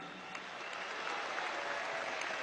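Sustained applause from a large audience at a political youth gathering in Venezuela, a soft, even wash of many hands clapping at a distance, continuous throughout with no speech.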